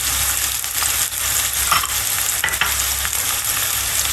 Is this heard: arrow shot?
no